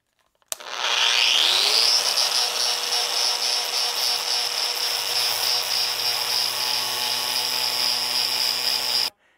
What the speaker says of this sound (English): I happen to have this Metabo cutoff,